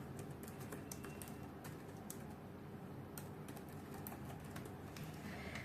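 Soft computer keyboard typing as a code comment is written in a Java program, with quick, irregular key clicks over a steady low background hum, faint and close.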